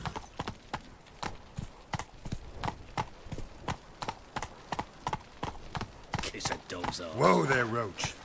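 Steady clip-clop of Roach the horse's hooves trotting in The Witcher 3: Wild Hunt, even and moderately close, with voices and a short musical or vocal flourish rising near the end.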